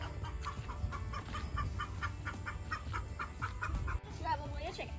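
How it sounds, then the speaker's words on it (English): Chickens clucking on a farm, a series of short rhythmic clucks at moderate distance over a faint background, with a brief voice near the end. "Probably a chicken."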